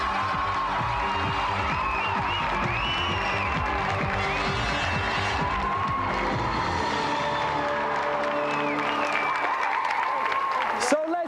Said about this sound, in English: let's have another round of applause for Andy Thompson